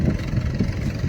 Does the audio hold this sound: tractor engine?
yes